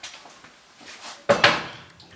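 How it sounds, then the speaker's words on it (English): Chopping boards being put up in a home kitchen: soft shuffling and light handling sounds, then two sharp, close clattering knocks in quick succession, fading into quiet handling noise. "I put my chopping boards up."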